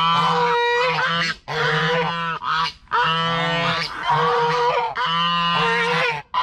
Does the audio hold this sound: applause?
no